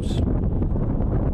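Steady wind gusting across an outdoor baseball field at a high school league game, roaring and buffeting the microphone throughout the short stretch with no other distinct sounds.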